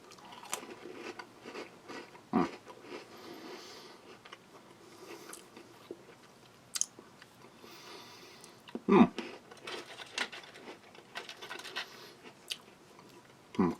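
Close crunching and chewing of a crisp, bear-shaped Taiwanese biscuit, with irregular bites and a few sharper cracks over quiet background noise.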